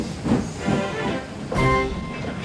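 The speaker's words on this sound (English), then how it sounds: "Alicia Botti boarded the train and Percy steamed away" A steam engine train pulls away with a steady rumbling chug and light rail clatter, moderately loud, with a brief hissing burst partway through and no voices.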